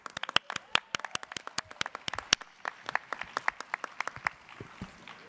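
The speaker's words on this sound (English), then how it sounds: "Let's give a round of applause." A small convention audience claps in scattered, uneven bursts, sharp individual hand claps ringing out close by and thinning toward the end.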